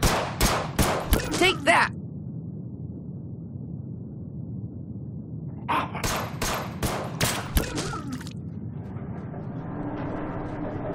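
Gunfire in the zombie-survival strategy game They Are Billions: a rapid burst of shots, a pause under steady ambient rumble, then a second volley of several loud cracks, with a brief spoken exclamation.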